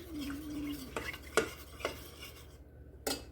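Béchamel sauce is stirred in a pan, with a soft scraping swirl followed by several sharp utensil knocks against the pan, fairly faint and spaced apart, no talking.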